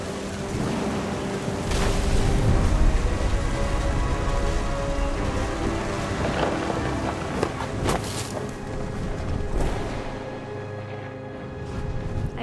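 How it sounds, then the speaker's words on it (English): Rain pours steadily during a thunderstorm in the video game What Remains of Edith Finch, a dense hiss with occasional low rumbles and sharp cracks, no voices. "The thunder sounded much too close and full of angry power"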